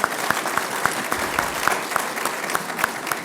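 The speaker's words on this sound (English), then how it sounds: "please give a big round of applause to the panelists" Audience applauding panelists at an investment conference panel on Lusophone Africa, a steady wash of many hands clapping with sharper individual claps standing out throughout.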